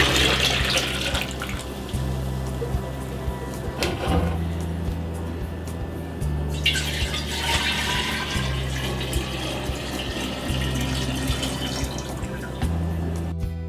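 Cool tap water pours into a pitcher for brewing kombucha, a steady broadband gush that runs throughout with shifting flow and a few louder splashes, no talking.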